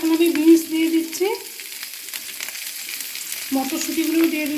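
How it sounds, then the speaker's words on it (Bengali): Green beans go into a pan with frying cauliflower, producing a soft sizzle with a few stirring scrapes, interrupted near the start and resuming toward the end alongside a steady low hum. "ফুলকপি কিছুক্ষণ ভাজার পর এখন আমি বিনস দিয়ে দিচ্ছি,"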